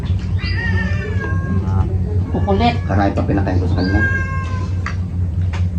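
A house cat meows repeatedly at close range in a home during a meal, its rising, drawn-out cries recurring over steady people talking and background hum.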